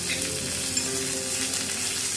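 Freshly chopped coriander sizzling in hot mustard oil in a pan, a continuous soft hiss and crackle of frying heard alone with no voices.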